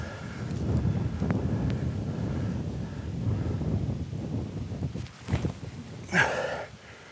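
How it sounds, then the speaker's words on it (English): Low rumbling wind buffets the microphone outdoors on a disc golf course, with a few brief rustles and knocks near the end. "It's pretty windy today."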